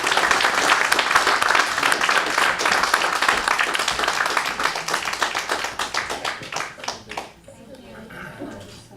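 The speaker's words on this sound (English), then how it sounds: "Please let's give a round of applause to everybody." Applause at a city council meeting: a dense burst of clapping that slows into distinct individual claps, then tapers off into scattered claps and murmuring voices, with a voice somewhere in the room.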